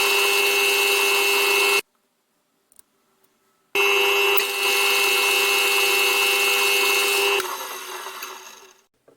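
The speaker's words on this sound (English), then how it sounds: "The bolt is drilled through and then drilled partway with a larger drill" A drill grinds through a steel bolt in two bursts, a steady high whine with a brief silence between, the second run slowing and fading as it finishes.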